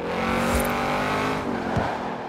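A Lamborghini Huracan engine roars nearby in a racing video game, a steady loud drone with brief swells, alone without talk.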